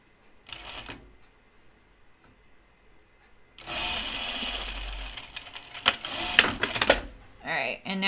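A sewing machine stitches the side seam of a 1940s-style dress in short bursts of fast mechanical whirring and clatter, loud near the end, with people speaking before and between the runs.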